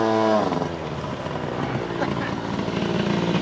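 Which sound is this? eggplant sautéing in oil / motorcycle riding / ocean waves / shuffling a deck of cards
motorcycle riding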